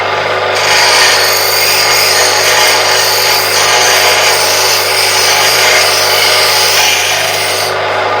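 A bench grinder runs steadily, sharpening a metalworking tool against the grinding wheel, with a constant motor hum and a bright, harsh scraping hiss, loud and close, unchanging throughout.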